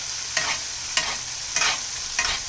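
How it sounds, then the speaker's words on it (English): Steak sizzles in a pan while being basted with butter and thyme: a steady, close frying hiss broken by four evenly spaced scooping strokes of the spoon. "taking that butter and just scooping it on your steak just like that"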